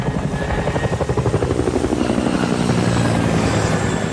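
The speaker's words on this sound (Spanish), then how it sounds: "Mark Holbrook oyó el sonido de un enorme helicóptero a baja altitud" A large Chinook twin-rotor military helicopter of the British Air Force passes low overhead, its steady loud rotor thump and engine roar filling the whole stretch without pause.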